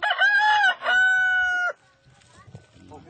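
A fighting rooster in East Timor crows loudly and close up, one long drawn-out cock-a-doodle-doo, followed by quiet background noise and faint clucks.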